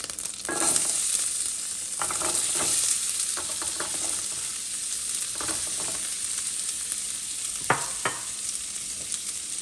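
Chopped carrots sizzling in a hot pot for a seafood bisque, with a steady frying hiss underneath and scattered scraping and clinking from a stirring utensil.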